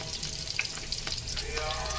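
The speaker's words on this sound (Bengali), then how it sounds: "তেল দিয়ে দিয়েছি, তেলের মধ্যে এখন পেঁয়াজ দিয়ে দিয়েছি, এটা ভাজবো।" Onions sizzle steadily in hot oil in a large pot, a soft continuous crackle with occasional louder pops, heard up close and without talk.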